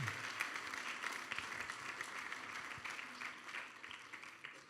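A church congregation claps steadily in applause for several seconds, a dense, even wash of hand claps filling the room with no speech over it.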